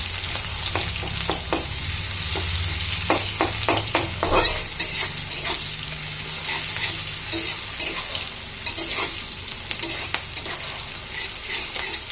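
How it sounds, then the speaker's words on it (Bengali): Onions fry in hot oil with a loud, close sizzle and crackle, punctuated by a run of rapid scraping clicks from stirring. "তেলে ওখানে আমি পেঁয়াজ দিয়ে দেবো।"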